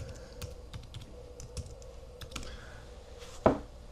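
Keys on a computer keyboard are tapped in an irregular run of soft clicks while a username and password are entered, ending with one firmer keystroke.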